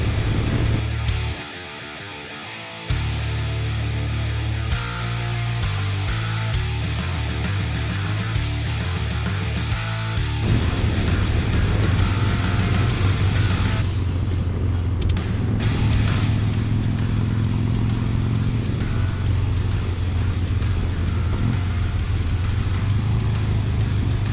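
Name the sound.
Harley-Davidson Bad Boy motorcycle engine while riding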